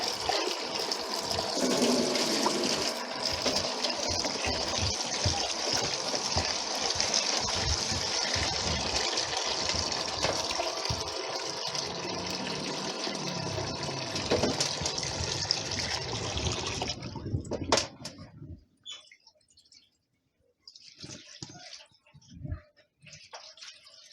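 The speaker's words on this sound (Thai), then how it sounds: "เดี๋ยวเรานำไปล้างกันเลยค่ะ ล้างซาวน้ำเกลือออกนะคะ" Pork ribs are washed in salted water, with a steady rushing, gushing flow of water and sloshing that runs continuously for most of the time, then stops, leaving a few scattered splashes and handling noises.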